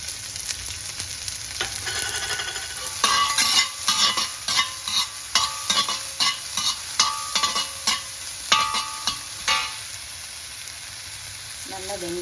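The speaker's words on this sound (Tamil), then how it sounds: "ஜீரகம் பொரிஞ்சு வந்ததும் வெங்காயம், பொடி பொடியாக கட் பண்ணி வச்சுருக்கிற வெங்காயத்தை போட்டுக்கிறோம்." Cumin seeds and finely chopped onions hit hot oil in a pan for veg puff filling, a constant sizzle broken by a rapid run of sharp, rhythmic stirring scrapes and clinks near the middle.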